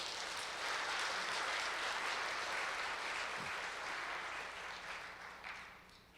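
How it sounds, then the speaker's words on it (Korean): Dense clapping from the audience at a corporate award ceremony, filling the hall evenly before thinning and fading toward the end. "여러분들 모두를 위해 뜨거운 박수 한번 부탁드리겠습니다"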